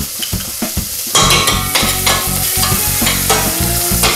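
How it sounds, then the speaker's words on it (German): Langoustine fried briefly in oil in a pan, with no salt or pepper, for a sauce: loud close sizzling that rises suddenly after soft stirring taps, with scraping stir strokes over the steady frying hiss. "dann etwas Öl dazu und braten die Languste ganz kurz an."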